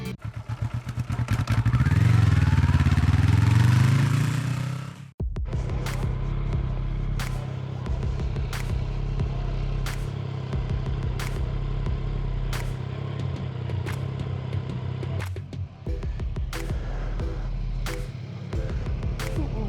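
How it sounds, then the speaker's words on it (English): A Yamaha XSR900 motorcycle engine revs hard and loud up close, then drops abruptly to a rough, ticking idle with occasional sharp clatters. "When it goes to higher revs, you definitely feel that torque."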